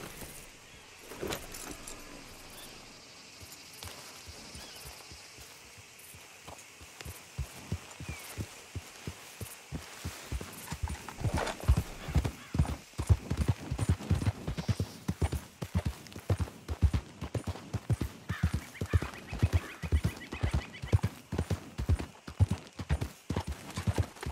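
Hooves of a ridden horse clip-clopping, starting sparse and quiet then building into a steady, close, rhythmic trot, with metallic jingling of tack and brief talk early on.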